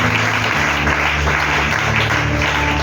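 A church congregation claps together in a steady, dense wash of applause, loud and continuous throughout, with a faint musical hum underneath.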